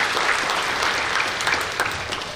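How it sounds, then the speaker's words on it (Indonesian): Audience clapping at a business training meeting, a dense, steady burst of applause from a room full of people, loud and continuous for a couple of seconds with a faint voice underneath. "Tepuk tangan untuk Anda ya."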